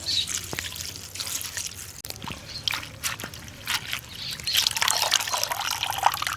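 Water running and splashing while garlic cloves are washed for a chutney, a soft continuous trickle with small drips and sloshes, fairly faint throughout.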